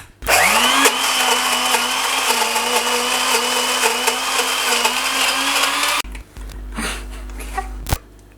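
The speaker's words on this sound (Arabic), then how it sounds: "دابا من بعد ما حمرناه غادي نطحنوه" A kitchen blender whirs loudly as it grinds roasted ingredients into homemade protein powder, a steady high-pitched motor whine for about six seconds before cutting off, followed by faint handling clatter and a thump.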